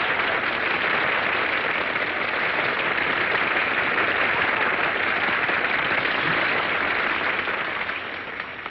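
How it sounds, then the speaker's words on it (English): Studio audience applause at a Hollywood breakfast radio show, a steady wash of many hands clapping at full strength that holds evenly and begins to fade near the end. "Now you can all applaud."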